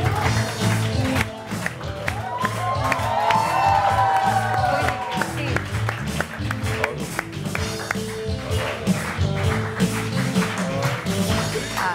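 A television morning-show studio audience claps and cheers to welcome guest Alamgir, a steady, moderately loud wash of applause with scattered whoops and music running underneath for the full stretch.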